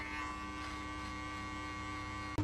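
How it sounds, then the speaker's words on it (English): An electric hair clipper buzzes steadily and close up while shaving a head down for a skin fade, a continuous even drone with a brief break at the end. "now we're gonna shave everything off using the clipper"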